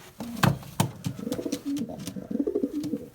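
Young pigeons about ten days old in a breeding loft coo steadily and close by, a low throaty rolling murmur broken by a few sharp knocks and clatters.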